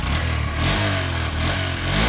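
Honda SP 125 2025 OBD 2B motorcycle with a 125cc engine running close by, a steady low throb with slight rhythmic swells in revs, loud and continuous with no talk.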